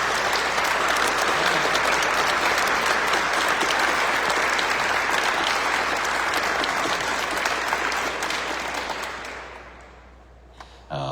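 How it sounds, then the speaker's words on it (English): Loud, sustained applause from a large crowd at an award ceremony, clapping steadily before tapering off and fading out near the end. "Please join me in one more round of applause."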